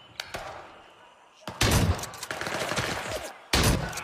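Loud shotgun blasts from a video game ring out in two heavy bursts, with booming thuds and crackling gunfire filling the gaps between them.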